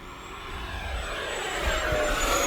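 An FMS Yak-130 v2 RC jet on 6S power passes overhead with a steady high-pitched turbine-like whine over a broad rushing roar. It grows slightly louder over a few seconds.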